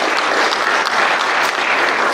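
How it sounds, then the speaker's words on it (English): Steady, loud applause fills a hall of fame induction ceremony at Hope Arkansas Public Schools, dense clapping from a large audience continuing evenly throughout without a break. "Clap it up for Dina serving us in the back"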